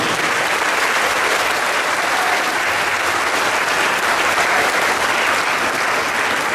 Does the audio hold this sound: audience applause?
yes